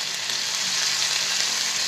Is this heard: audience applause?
no